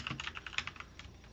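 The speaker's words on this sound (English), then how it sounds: "My keyboard's really loud." Clattering taps on a loud computer keyboard come in quick irregular bursts, close and fairly quiet, with no talking.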